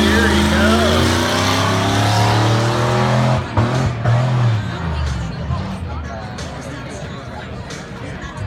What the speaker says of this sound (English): He's going to rev that thing up.